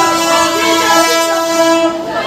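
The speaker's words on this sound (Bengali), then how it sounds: "প্রথমবারের মতো চলতে চলেছে পুরুলিয়া থেকে হাওড়া মেমু স্টেশন" A Purulia to Howrah MEMU train at Masagram railway station sounds a loud, sustained horn close by, over the steady rumble of the passing rail cars.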